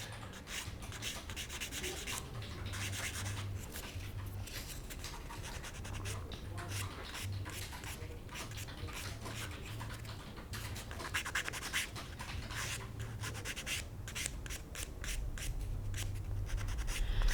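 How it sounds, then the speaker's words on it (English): Close, continuous scratchy rubbing of 400 grit sandpaper across a seam line on a 1/48 Tamiya F-4B Phantom plastic model, in rapid back-and-forth strokes with no talking. "I'm just going to use some sandpaper to cut back. So 400 grit."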